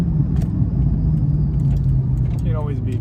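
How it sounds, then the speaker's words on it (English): Supercharged 500HP Terminator SVT Cobra engine gives a steady, loud low rumble throughout, with a brief whistling sweep near the end. "that supercharger is addicting. It sounds so good."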